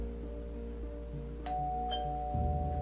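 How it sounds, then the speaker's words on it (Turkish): An indoor doorbell rings with a few bright electronic ding-dong tones, close and clear over a low background hum. "Aa, zil çalıyor."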